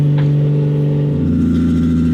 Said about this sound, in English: Should we try to do something about this fucking high idle?